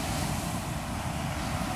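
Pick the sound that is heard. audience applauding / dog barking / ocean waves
ocean waves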